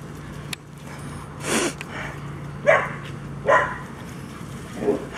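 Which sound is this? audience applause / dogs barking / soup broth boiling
dogs barking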